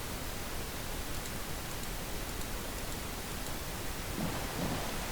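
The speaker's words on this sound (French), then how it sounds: "Ah, il pleut." Steady rain with low rumbling thunder in the Minecraft video game, a continuous hiss filling the scene at moderate level with no speech.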